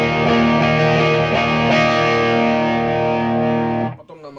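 Distorted electric guitar through a 100-watt Peavey Windsor tube amp head with its first knob turned to zero. A thick, sustained chord rings loud and close, then is cut off abruptly near the end.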